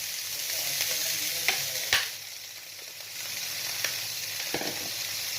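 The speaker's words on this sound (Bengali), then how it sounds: "হালকা ভেজে নিলাম একটু নাড়াচাড়া করে দিচ্ছি" Steady sizzling of food frying in a pan, with occasional scrapes and clinks as it is stirred. No talking.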